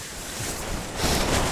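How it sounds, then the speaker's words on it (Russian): Strong wind at high altitude on Peak Communism in the Pamirs buffets a tent in a steady roar, swelling louder in a gust near the end, with no voices. "сегодня ветер 60 км в час."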